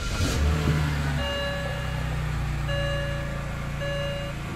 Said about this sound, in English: now the car is on, we're gonna let the car warm up